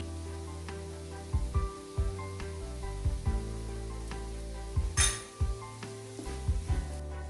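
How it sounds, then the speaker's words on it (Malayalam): Curry leaves hit a pan of frying potato and onion in a steady sizzle, broken by clinks and scrapes of a utensil against the pan in irregular bursts, close and without voices. "ഇനി നമുക്കിതിലേക്ക് കറിവേപ്പില ചേർത്ത് കൊടുക്കാം."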